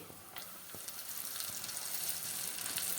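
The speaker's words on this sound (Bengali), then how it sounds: "হাই ফ্লেমে গরম করে নিয়েছি তেল এবারে আমি আবার আলুগুলো দিয়ে দিচ্ছি" Potato French fries dropped into oil heated on high flame set off a steady, dense crackling sizzle that builds and holds for a few seconds, close and fairly quiet, without speech.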